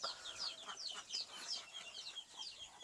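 Chickens on a Chinese duck farm cluck and chirp in quick, overlapping bursts, close by and fairly busy, with no talking.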